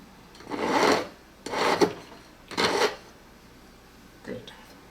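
A hand file rasps across a roughed-out silver plate for an earring in three close, gritty strokes with short pauses between, followed by a fainter fourth scrape.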